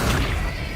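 An Accio summoning spell cast in Hogwarts Legacy, a short dense burst of magical whoosh and thump lasting under a second, loud and close, with no voice over it.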